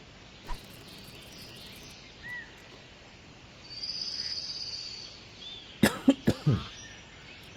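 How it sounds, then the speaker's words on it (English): A man coughs in a quick burst of several harsh coughs near the microphone, alone against a quiet background of nature ambience with insect and bird sounds from a fishing game. "I'm fighting off the tail end of a really bad cough"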